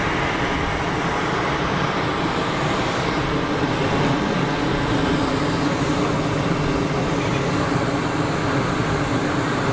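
A jet airliner departing Geneva Airport, its engine fan blades producing a loud, sustained roaring whine that holds steady across the whole span, close and continuous with no voices over it.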